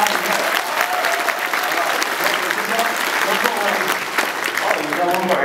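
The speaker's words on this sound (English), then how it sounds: "Little round of applause for the nice color work." A comic con crowd gives sustained, loud applause throughout, with scattered cheers and voices mixed into the clapping.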